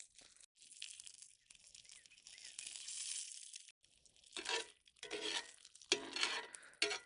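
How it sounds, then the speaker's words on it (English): Bacon pieces stirred through hot grease in a pan, giving soft crinkling scrapes and stirring strokes in irregular bursts, fairly quiet and close, with no talking. "stir them back in all that grease and keep them moving"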